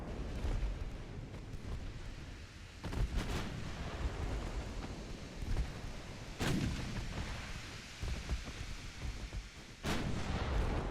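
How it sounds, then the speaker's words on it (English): Naval guns firing at a battleship in the Ultimate Admiral Dreadnought warship game, with several deep booming salvos spaced seconds apart over a constant rumbling sea-battle background, loud and distant. "They want to shoot my battleship over and over again."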